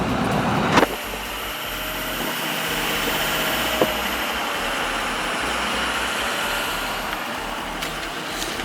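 A 6.0 diesel truck engine runs steadily with a prominent turbo whistle riding over a deep, smooth drone, close and continuous with a slight swell in pitch.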